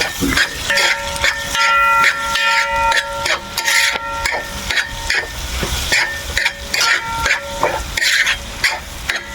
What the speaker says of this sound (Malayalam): ഇനി ഇളക്കി യോജിപ്പിക്കുക